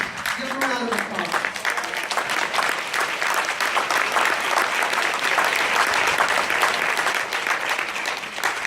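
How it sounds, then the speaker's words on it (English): An audience at a 2015 awards keynote breaks into a sustained round of applause, dense steady clapping filling the whole stretch, with a voice briefly heard at the start. "Give them a round of applause."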